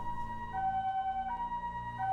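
A wailing ambulance siren from the Racing Lagoon video game, its two-tone pitch sliding steadily up and down, moderately loud and continuous with no voices over it.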